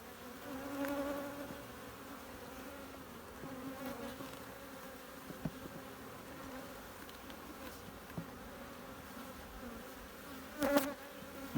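Honeybees buzz around a crowded hive during an inspection, a soft continuous drone of many wings with occasional louder passes near the microphone.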